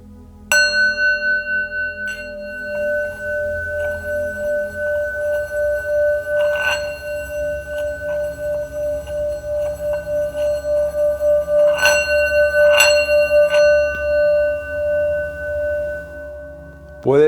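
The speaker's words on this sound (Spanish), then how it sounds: "Puede percibirse la vibración, por ejemplo, en la mano que está sosteniendo a la campana tibetana." Tibetan singing bowl struck several times, each strike ringing out with a steady sustained hum and bright overtones that linger and overlap, with fresh strikes near the middle and end of the clip.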